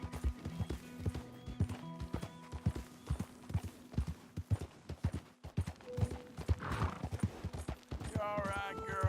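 In the Red Dead Redemption II game, a horse gallops in quick, heavy, rhythmic hoofbeats near and loud, with a brief whinny toward the end and a voice talking over part of it.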